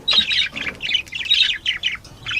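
Budgies in a breeding aviary chatter in quick, bright chirps and warbles, a close, lively run of short squawky calls with brief gaps between them.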